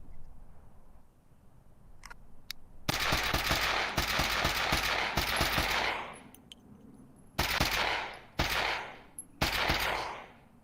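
Rapid automatic gunfire in a VR shooter game, bursting loud and close in several separate rattling volleys with brief quiet gaps between them, over a low background hum.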